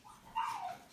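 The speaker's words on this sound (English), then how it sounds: "that's my dog." A dog gives a single short, faint yip or whimpering bark indoors, brief and alone against a quiet room.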